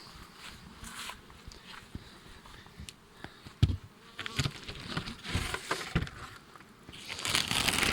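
Honey bees buzzing around hives in an apiary while the nests are assembled for winter; a dense, steady hum with louder swells as bees fly close, plus faint handling rustles and knocks, and no talking.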